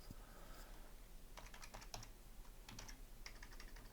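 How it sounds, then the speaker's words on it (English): Faint typing on a computer keyboard, short clusters of quick soft key clicks separated by pauses over a steady low hum. "it takes a little bit to type all this in"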